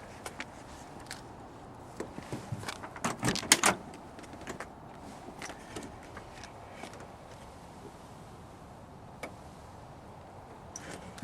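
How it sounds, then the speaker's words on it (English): Doors of a 1970 Ford Torino Cobra opened and shut, several clicks and latch clunks clustered near the start, with one firmer slam and a few isolated ticks later, otherwise quiet. "Doors open and shut like new."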